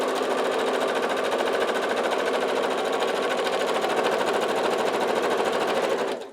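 A sewing machine stitches a quarter-inch quilting seam in one loud, continuous run of rapid needle clatter, close and alone, stopping abruptly at the end.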